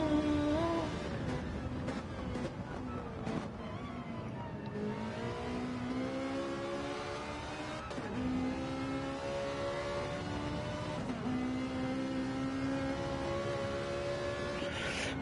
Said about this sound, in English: Hear that Ferrari engine?